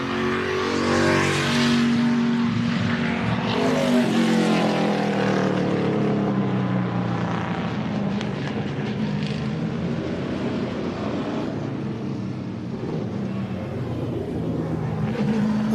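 A NASCAR Cup stock car's engine roars past at the M1 Concourse track in Pontiac, a loud, sustained, throaty drone whose pitch rises and falls as it passes close and then recedes.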